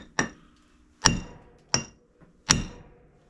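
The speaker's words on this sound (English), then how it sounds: "it does take a pretty big hammer to get this on here" A big hammer strikes four times, driving a seal onto the front axle shaft of a Ford Super Duty truck; each blow is a sharp, ringing metallic clank followed by a short decay, spaced irregularly with no talk.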